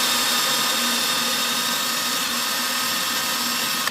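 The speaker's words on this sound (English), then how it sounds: "So now I'm going to try and drill a bit more and see how it goes." Power drill running steadily while boring into a stuck screw with a cheap screw extractor bit, a loud continuous whirring motor whine with a constant pitch and no breaks.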